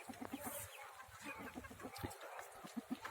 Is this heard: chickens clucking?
yes